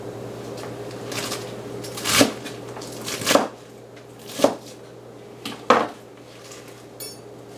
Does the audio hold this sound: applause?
no